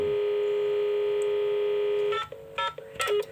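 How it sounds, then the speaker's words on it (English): On a PABX telephone exchange, a steady dial tone holds for two seconds, then gives way to a quick run of clear DTMF keypad beeps as a number is dialed, loud and close. "We are dialing 805"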